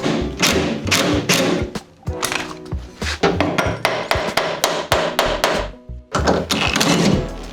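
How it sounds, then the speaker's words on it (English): A hammer whacks the rear door hinge pin of a Chevy Astro or GMC Safari van over and over: sharp, close metallic thuds in uneven bursts, with brief pauses between groups of blows. "put enough pressure on this pin and then whack it with a hammer that it should start to drive it loose"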